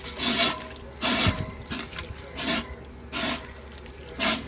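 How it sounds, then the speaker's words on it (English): A spoon stirs shredded soap into water in a pot over high heat, making rhythmic swishing strokes about once a second, moderately close and with no talk. "we're gonna just stir it until all of the shredded soap melts"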